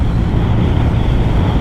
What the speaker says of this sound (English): It's a bit windy out there at the moment